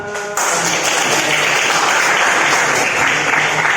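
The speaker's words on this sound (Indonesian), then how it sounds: "Alhamdulillah, tepuk tangan." A classroom of pupils bursts into applause after a student answers, dense continuous clapping that starts abruptly after a brief pause and carries on loud and close to the end.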